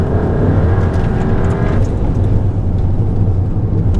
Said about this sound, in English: I'm going to keep one end on the wheel and just flat to the floor on exit